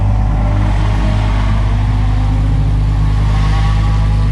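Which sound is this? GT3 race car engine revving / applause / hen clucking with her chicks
GT3 race car engine revving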